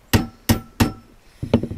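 A hammer taps a pilot hole into a burned-out metal stove pipe at a rustic log cabin, three sharp evenly spaced close strikes followed by a quicker double tap.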